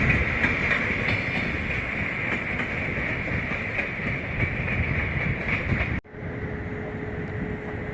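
The Intercity Pomorzanin passenger train, led by an EP09 locomotive, passes through Wrocław Główny station on the main line. A loud, steady rumble of wheels and carriages continues with faint clickety-clack, then suddenly turns quieter near the end.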